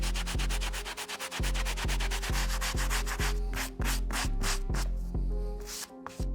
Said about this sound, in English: While I have the medium bristle brush, let's take care of the insole.